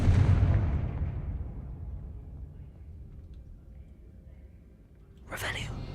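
A Confringo spell explosion from the game Hogwarts Legacy booms at the start and fades away slowly, followed near the end by a second sharp burst.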